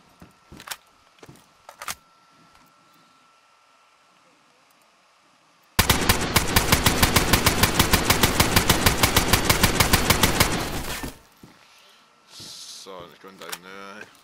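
Rapid automatic gunfire in the DayZ video game during a base raid, one long loud sustained burst of shots lasting about five seconds, preceded by a few faint clicks and followed by quiet talk.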